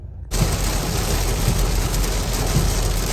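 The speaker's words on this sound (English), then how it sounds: "this rain is ridiculous right now" Heavy rain pounds a car while driving on a road, a dense, steady roar that starts abruptly and holds loud and constant throughout, with no voices.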